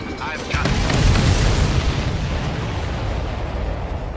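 Heavy explosions in the flight combat video game Ace Combat 7: Skies Unknown, a deep booming blast swelling after half a second into a sustained rumbling roar, loud and close.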